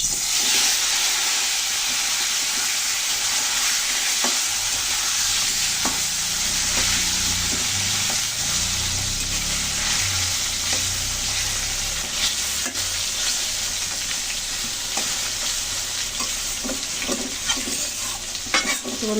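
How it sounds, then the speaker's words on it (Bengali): Koi fish fry in hot oil in a wok with turmeric, a continuous loud sizzle and hiss with occasional stirring and spatula clicks, no one talking. "আমি কড়াইতে তেল দিয়েছি, দেখুন চুলা অন করে তেল গরম হয়ে গেছে। এখন মাছগুলো ভেজে নিচ্ছি।"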